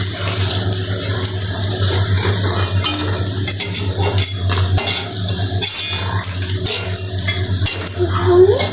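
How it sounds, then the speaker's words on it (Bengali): Noodle pakoras fry in hot oil with a steady sizzle and bubbling, punctuated by scraping and stirring as the fritters are scooped out with a spoon, close and fairly loud. "এখন আমি বাকি পকোড়াগুলি তুলে নেব।"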